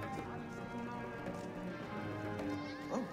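Steady clip-clop of horse hooves in Assassin's Creed Origins against a busy ambient bed, with a brief whinny-like call near the end; no one speaks.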